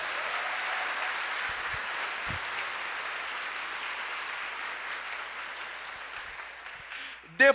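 A church congregation applauds in a steady, moderately loud wash of clapping that holds for several seconds and slowly fades, with a sharp sound at the very end.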